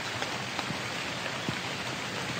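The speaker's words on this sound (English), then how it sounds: "Don't want to be out in the rain too long." Heavy rain pouring down outdoors, a dense, steady hiss of drops hitting surfaces, continuous and fairly loud with no voices.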